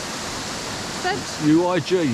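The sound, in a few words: Rha Waterfalls on the Isle of Skye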